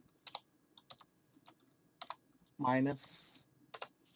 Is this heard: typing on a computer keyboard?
yes